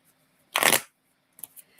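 Tarot cards are shuffled in one loud riffling burst lasting about a third of a second, followed by a few soft, brief card taps and slides in an otherwise quiet room.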